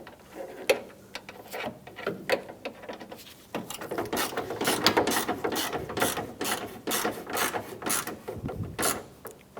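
A ratchet tightening bolts on a 1997-2001 Honda CR-V bumper cover, close rapid clicking in short bursts that turns into a denser stretch of ratcheting, with no talking.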